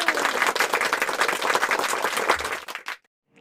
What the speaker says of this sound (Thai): ปรบมือให้ตัวเองหน่อยเล็ว